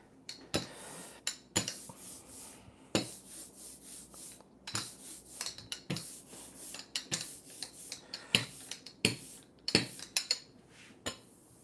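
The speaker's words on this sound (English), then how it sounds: "it's going to be a lot of rolling on this ink today" Repeated rubbing, rasping strokes of a roller rolling black ink across a woodcut printing block, irregular rhythm, close and fairly quiet, with no talking.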